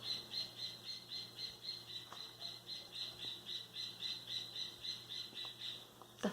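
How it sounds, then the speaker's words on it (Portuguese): Small birds in trees outside a house chirp in a steady, rapid repeating pattern, fairly loud and close, continuing throughout with no voices. "Eu amo esses passarinhos que moram aqui em casa, nas árvores, porque eles sempre resolvem de piar na hora dos vídeos."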